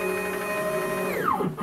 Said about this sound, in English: There's the gantry. Gantry is running at about 747 inches a minute.